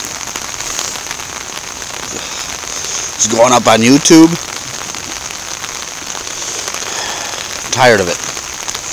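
Steady rain falls outside in New York in November, a constant close patter of drops on surfaces, with someone briefly speaking over it twice.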